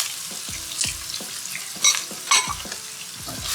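Onions fry in oil with tempered spices for a South Indian potato curry, a close, steady sizzle with rhythmic low scraping stirs and a few brighter spatters of crackling.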